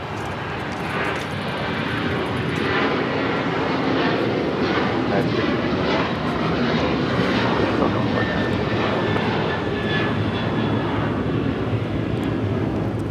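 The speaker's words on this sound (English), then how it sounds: "1621 taking off to Orlando on the 737-900 ER." A United Airlines Boeing 737-900ER takes off at LAX, its engines producing a loud, sustained roar that holds evenly for the whole stretch, with people chatting nearby underneath.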